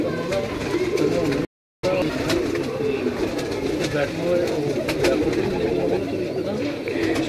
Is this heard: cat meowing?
no